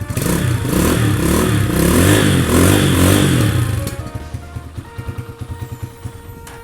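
A 2018 GPX Legend 150 motorcycle engine revs loudly through a stock exhaust for a few seconds, then drops back to a lumpy, rhythmic idle close by.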